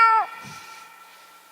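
A cat gives a short, clear meow that fades out after a fraction of a second, leaving quiet background.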